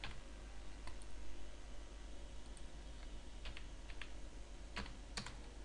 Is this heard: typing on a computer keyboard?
yes